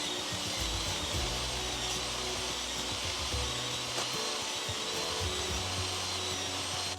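A table saw rips wood boards into 2-inch strips, a constant high whine of the running blade with lower surges as each board feeds through, steady and moderately loud with no voices.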